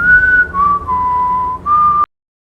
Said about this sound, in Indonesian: terdengar suara siulan Dr. Hill lagi